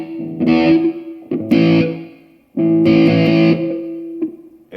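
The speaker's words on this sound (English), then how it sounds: "Another reverb called ambience." Guitar chords strummed and let ring through the short, roomy Ambience reverb of a Zoom G3Xn multi-effects pedal, three separate phrases with clear decays between them.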